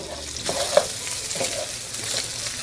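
Spam searing in hot vegetable oil and being stirred in the pan: a continuous close sizzle and crackle, broken by a few soft scrapes and knocks as the pieces are moved around.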